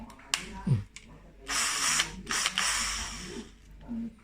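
A Jiapu cordless drill with a faulty trigger or battery whirs in a few short bursts, revving up and stopping, with brief clicks and handling noises between runs.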